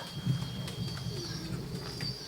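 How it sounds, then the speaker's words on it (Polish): Racing pigeons coming in and settling on the trap of a loft in Starogard Gdański. Low, steady cooing and fluttering fill the clip near the microphone, with faint higher bird chirps above and no talking. "kiedy już tutaj się nad gołębnikiem znajdują, od razu siadają na klapę i odbijają się"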